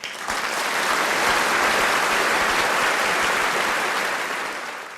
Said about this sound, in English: and they all clap at the end.